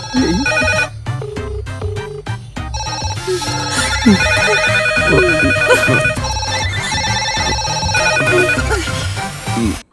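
In a Malayalam film scene, a telephone rings loudly with a repeating melodic tone that plays throughout and stays up front in the mix.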